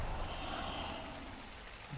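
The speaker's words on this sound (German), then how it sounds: "Es regnet! Endlich!" Steady rain in the survival video game ARK, a dense, even hiss of falling water that holds at a low level and fades slightly toward the end, with no talking.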